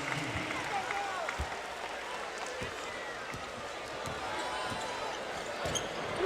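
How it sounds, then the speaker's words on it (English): Crowd noise fills a college basketball arena during a Middle Tennessee versus Tennessee game, a steady roar of cheering with scattered ball bounces and sneaker sounds throughout. "the cheer is for Tyler Summit, number 14."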